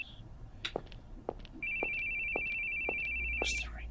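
A steady electronic phone ringtone tone sounds for about two seconds amid scattered clicks and taps, fairly close and clear.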